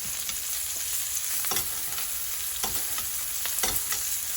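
Steak frying in browning butter in a pan, a continuous loud close sizzle with bursts of spattering and occasional utensil scrapes, no talking.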